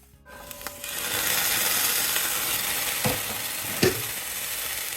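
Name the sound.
food simmering in a pot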